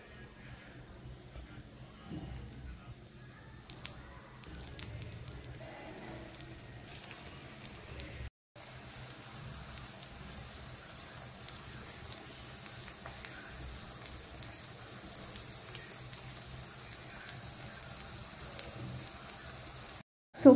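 Chickpea kebab tikkis fry in hot oil in a pan, a steady faint crackling sizzle running throughout with brief pops and a short break midway.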